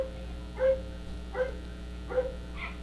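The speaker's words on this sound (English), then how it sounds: "Do y'all hear those dogs out there going a mess?" Dogs bark outside, a few separate muffled barks spaced roughly every three-quarters of a second, moderately distant over a faint steady background hum.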